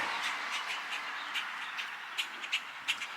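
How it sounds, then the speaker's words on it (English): Many birds chatter and call together in a noisy, continuous chorus, with a few sharper squawks standing out near the end. "A lot of birds around here."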